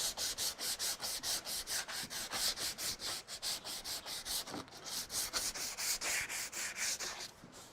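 Steady back-and-forth rasp of sandpaper on wood, about three strokes a second, close and fairly loud, with no talking.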